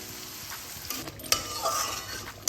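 White paste goes into a pan of sizzling gravy already cooking with ginger-garlic paste for malai chicken kofta, a steady close fry and hiss with stirring and a few sharp utensil clinks against the pan.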